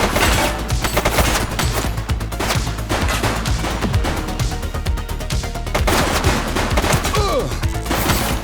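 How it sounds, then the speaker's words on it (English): Heavy, continuous gunfire in The Precinct police video game, dense bursts of shots and rattling volleys with occasional crashes, loud and close for the whole stretch with little pause. "Shots fired!"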